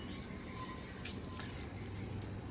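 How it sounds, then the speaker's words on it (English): Water runs steadily into a sink while small cast iron pots and skillets are washed and scrubbed. The wash is quiet and continuous, with a faint clink or two and no talking. "I'm scrubbing all these little cast iron pots, skillets"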